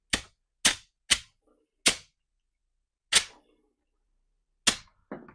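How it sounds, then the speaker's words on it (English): Six sharp air bursts, hissing blasts that kick up and die away, are injected through a Sediment Buster valve to stir sediment inside a home water heater tank. They come at uneven intervals with silence between them and no talk. "I'm going to engage it with a few short bursts of air."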